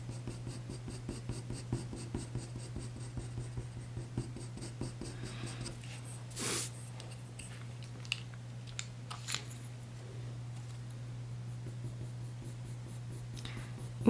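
A Derwent Lightfast pencil in Burnt Sienna scratches across paper in a long run of soft, close strokes, with a few louder handling bumps over a steady low hum.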